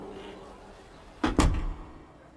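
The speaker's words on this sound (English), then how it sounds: "And the woman closed the door." A door closing during a narrated English-learning story, a single close muffled thud with a quick double impact over a steady low room hum, no voice at that moment.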